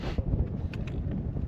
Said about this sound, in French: Et beaucoup de vent.